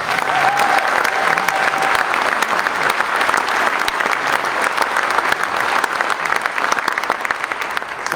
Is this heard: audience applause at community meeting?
yes